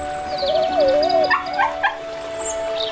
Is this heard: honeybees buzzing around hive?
no